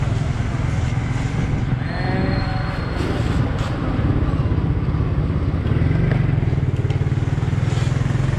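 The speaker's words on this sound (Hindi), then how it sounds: "ये है मोटरसाइकिलों के पार्ट्स की मार्केट, कराची की सबसे बड़ी होलसेल मार्केट।" Motorcycle traffic at a large motorcycle parts wholesale market in Karachi: a loud, steady rumble of engines close by, with horns and street clatter mixed in and faint voices in the background.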